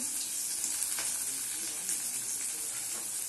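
Steady sizzling of chopped onions frying in a pan for prawn gravy, broad hiss with occasional soft crackles and faint stirring, close and continuous.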